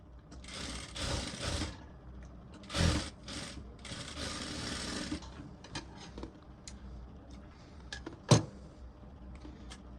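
A sewing machine stitches a single katori blouse in short mechanical bursts of whirring, separated by pauses and isolated ticks and clicks, with one sharp clack near the end and no talk.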